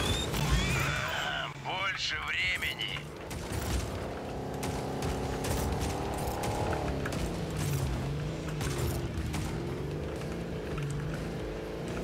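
Video game driving with a steady engine drone, bursts of rapid gunfire and crashing impacts, while someone talks over the action throughout.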